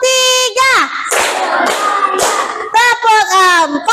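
A group of children clapping in a counted church clapping routine, sharp bursts of claps between loud chanted and sung voices, close and energetic.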